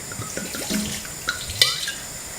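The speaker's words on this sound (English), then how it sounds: "And some wine." Wine pours steadily into a pot of chicken stew for a couple of seconds, a soft splashing trickle with a brief brighter splash near the end.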